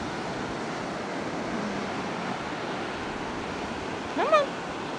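Ocean waves breaking on a shore make a steady broadband wash of surf. The roar is continuous and fairly even, with a brief brighter burst near the end. No speech is heard.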